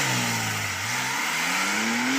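A Porsche 911 Sport Classic with a manual gearbox accelerating hard from a standstill, its engine note rising steadily in pitch as it revs, loud and close with no talk.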